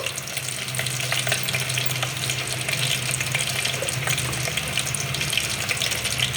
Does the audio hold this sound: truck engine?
no